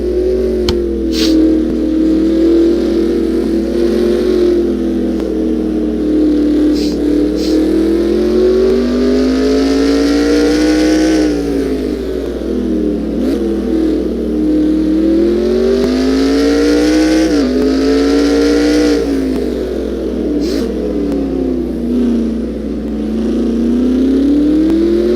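Several race cars scream around the Circuit of the Americas road course in a NASCAR video game, their engines loud and continuous, rising and falling in pitch through shifts and corners for the whole stretch with no talk.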